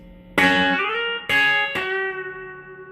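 Guitar lick played with a bar across the top two strings: three bright plucked attacks, the last two close together, each ringing out with sustained harmonics, close and clear with no voices.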